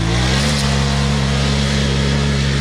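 A Polaris RZR side-by-side engine revs steadily and loudly on a dirt track, a continuous strained drone with no voices over it.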